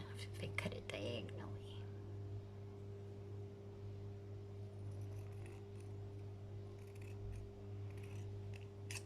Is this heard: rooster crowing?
no